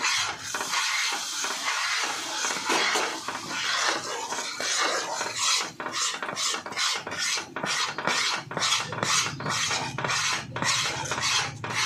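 A spoon or spatula scrapes and stirs a thick Mysore Pak mixture of gram flour, sugar and ghee in a pan, a steady close rasping that turns into quick rhythmic strokes halfway through.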